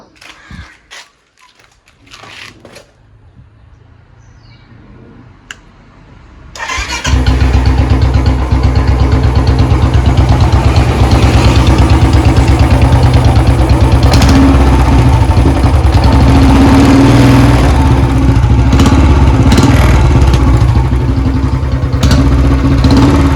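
A Royal Enfield Bullet Classic 350 single-cylinder engine fitted with a Kenada carburettor, with faint handling clicks and near-silence before it starts up at about seven seconds and settles into a loud, steady idle close by.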